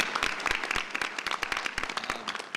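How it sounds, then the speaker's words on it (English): Audience at a township board meeting clapping briefly in a steady, moderately loud patter of many hands that continues evenly throughout. "Take a round of applause for that."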